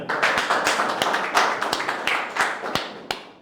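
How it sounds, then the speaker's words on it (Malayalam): At a Malayalam stand-up comedy show, a small audience gives a brief, scattered round of hand claps for Suresh Gopi, the sharp individual claps arriving unevenly rather than as a full roar. "സുരേഷ് ഗോപിക്ക് ഒരു കയ്യടി കൊടുക്കാം."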